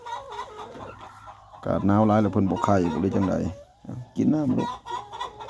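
Hybrid laying hens clucking and murmuring close by, a steady chorus of short clucks through the stretch while a person talks over them.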